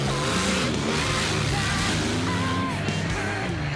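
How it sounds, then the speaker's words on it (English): An off-road vehicle engine revs and strains, its pitch rising and falling over a rough, loud rumble, with faint shouting in the background. "The revs came on a little bit too late."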